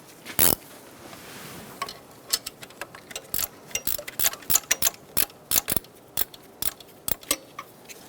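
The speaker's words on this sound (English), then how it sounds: "to do that, I'm going to use a ratchet wrench." Ratchet wrench turning a bolt on a 2002-2006 Toyota Camry 2.4L L4 alternator, a series of sharp clicking ratchet strokes in irregular bursts, close and crisp, with a louder clack at the start.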